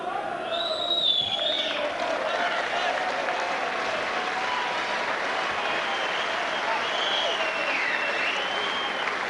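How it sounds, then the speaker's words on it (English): Boxing crowd at York Hall applauding and cheering after a fight, a dense steady roar of clapping and cheers with whistles rising above it, while a commentator talks over the noise. "look at the reaction from the York Hall crowd"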